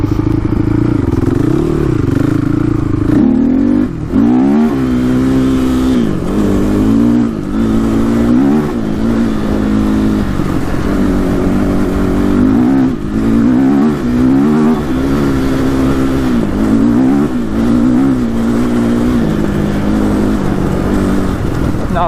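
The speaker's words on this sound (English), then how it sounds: "Hitting the rev limiter." A Honda TRX450r quad, worn and trashed, revs hard and bounces off the rev limiter, its engine note rising and stuttering in loud, continuous bursts close by for over twenty seconds.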